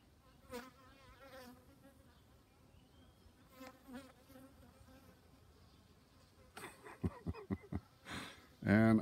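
A honey bee hovering near a backyard hive gives a faint, wavering buzz under a person speaking, with louder close bursts toward the end.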